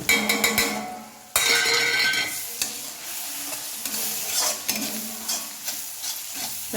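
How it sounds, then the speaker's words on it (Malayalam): Onions sautéing with spice powders in a pan, a bright sizzle broken by loud scraping stirs and a few utensil clinks against the pan, close and busy, with no voices. "എല്ലാ പൊടികളും നമ്മൾ ഒന്നിച്ചിട്ടിട്ട് ഒന്ന് വഴറ്റാം"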